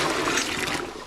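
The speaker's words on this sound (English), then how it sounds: "you dump the water in this bucket" Water from a pump gushes and splashes into a bucket in one short, fairly loud pour that tapers off after about a second.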